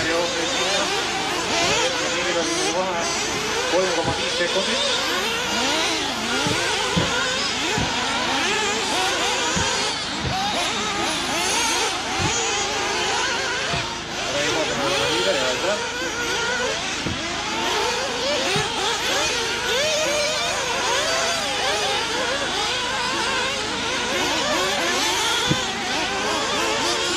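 Nitro 1/8-scale RC cars racing in an A main on an outdoor track with tabletop jumps: a continuous high-pitched whine of several small engines revving and weaving, with occasional thumps, under steady race commentary.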